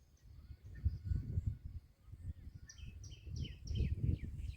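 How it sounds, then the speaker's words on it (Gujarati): Small birds chirp and twitter outdoors on a village farm, a scattering of quick, high calls coming in short bursts over low rumbling background noise, fairly faint and at a distance. "જો પક્ષી બોલે"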